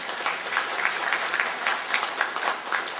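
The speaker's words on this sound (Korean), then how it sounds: "우리 모두를 위해서 여러분 힘찬 박수 한번 주시기 바랍니다" An audience at a literary book-launch event in Masan applauds: dense, sustained clapping from many hands, steady and fairly loud throughout, with no voices.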